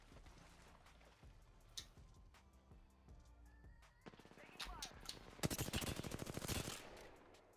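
Gunfire and grenade blasts from the video game Apex Legends: bursts of rapid automatic fire build into a dense, loud barrage of shots and explosions in the second half, with players' voices underneath.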